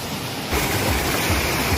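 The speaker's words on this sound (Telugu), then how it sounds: "వాటర్ అయితే చూడండి ఎంత బాగా ఫ్లో అవుతున్నాయో రాళ్ళ మీద నుంచి" Water of the Ananthagiri waterfall pours over rocks as a steady broadband rush, rising louder after a brief quieter moment and continuing without pause.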